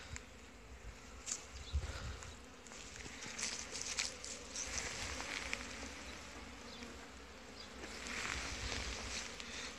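Honeybees buzz steadily around an apiary hive in spring, a dense, continuous swarm hum with small swells in loudness and no voices.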